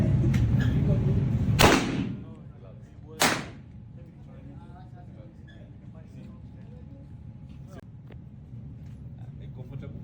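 Two sharp gunshots go off at a shooting range, the first loud and close and the second a moment later, each with a brief crack over a background murmur of people.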